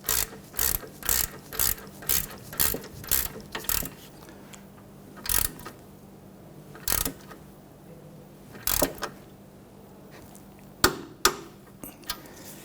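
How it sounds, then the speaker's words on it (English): A hand ratchet tightens the castle nut on the outer tie rod of a 2007–2017 Jeep Patriot, giving quick close bursts of sharp clicking, rhythmic at first, then sparser single pulls with pauses between them. "Torque down your outer tie rod nut to 97 foot-pounds."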